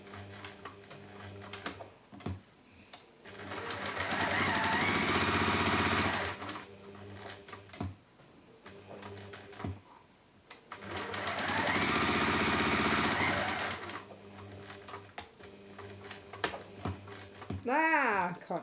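A sewing machine stitches a cork/PU fabric flower in two long whirring runs separated by quieter handling noises and brief pauses, with a voice speaking in between and near the end.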